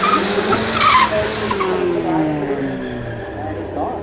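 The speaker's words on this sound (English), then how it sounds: "Oh, the thing is spinning in third." A drag race car spins its wheels in third gear on the strip, producing a loud tire squeal over a roaring engine, with a commentator's voice over the noise.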